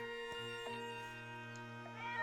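A cat in the video game The Legend of Zelda: Echoes of Wisdom gives a few short meows over a steady, soft tonal backdrop.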